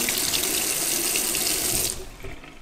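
Water gushes steadily from a tap in an abandoned building, a loud, close, continuous rush that cuts off near the end, leaving a quieter trickle and room noise.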